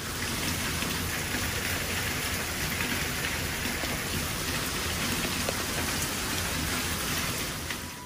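Steady rain falls with a dense, even hiss that stays constant and loud throughout, with no voices.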